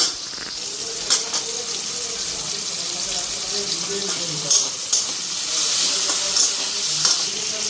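Onion and green chili sizzle in fish oil in a pan while being stirred, a continuous soft frying hiss broken by several sharp scrapes and clinks of the spoon, with faint background voices.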